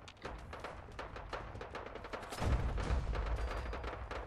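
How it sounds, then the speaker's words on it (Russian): Rapid bursts of distant gunfire in Fallout 4 crackle in a quick irregular rhythm, with a heavier booming thud joining partway through. "Просто выстрелы."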